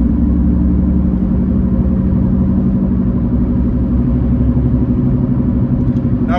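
A car driving along a Wellington motorway in New Zealand, its engine and road noise forming a steady, loud low rumble that holds evenly throughout with no voices.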